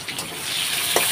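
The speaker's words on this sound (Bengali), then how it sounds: "আলুগুলো তাহলে লাল লাল করে ভেজে নিই ততক্ষণে।" Potatoes frying in oil in a home kitchen, a steady close broadband sizzle with a faint clink near the end and no voices.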